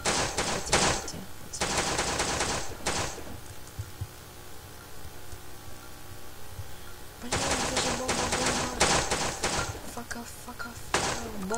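Rapid bursts of automatic gunfire in the video game Bomb Threat rattle loudly in two clusters, separated by a stretch of quieter background hum.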